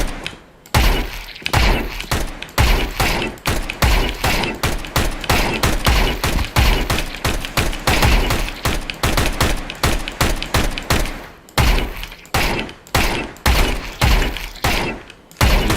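Rapid pistol gunfire in the video game Valorant, a long run of sharp, loud shots fired in quick bursts with brief pauses, close and dominant with no talk over it.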